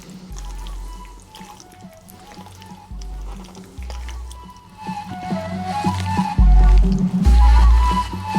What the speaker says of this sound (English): Just roughly mix everything up.